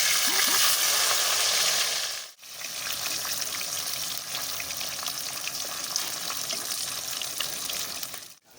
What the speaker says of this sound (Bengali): আমি এর মধ্যে একে একে মাছগুলো ছেড়ে দেবো